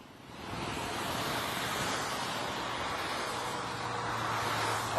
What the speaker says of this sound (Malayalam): ശക്തമായ കാറ്റ് ഇപ്പോൾ എൻ്റെ കയ്യിലുള്ള കുട പോലും നമുക്ക് ശക്തമായി പിടിച്ചില്ലെങ്കിൽ